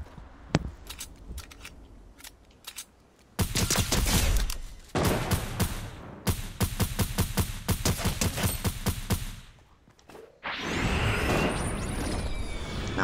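Automatic gunfire in a Fortnite Zero Build squads match: a few isolated distant shots, then sustained close rapid volleys in several long bursts, closing with a louder, noisier blast.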